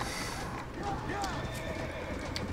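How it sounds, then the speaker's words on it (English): A horse in the Red Dead Redemption video game whinnies and gallops with steady clip-clop hoofbeats, moderately loud within game noise. "Alright, so we'll steal this horse."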